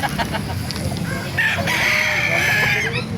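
A rooster crows at a busy chicken market in Calumpit, Bulacan, one long drawn-out call rising clearly over a steady crowd murmur and scattered clucks from nearby fowl.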